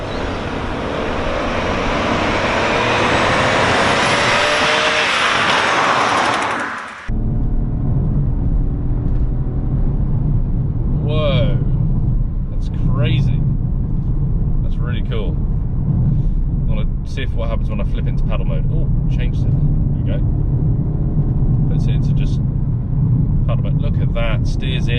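A 2020 Vauxhall Corsa drives at full throttle, its engine drone and road rumble loud and constant inside the cabin, with rushing wind noise early on and a voice talking over it.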